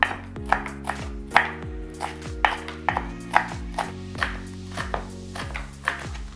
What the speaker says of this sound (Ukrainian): Тепер нарізаю укропчик.